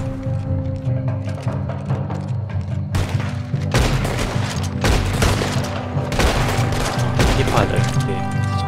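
Heavy, repeated gunfire and booming blasts in a Red Dead Redemption 2 battle, loud and continuous with sharp cracks, amid cannon fire and chatter from players talking over the action.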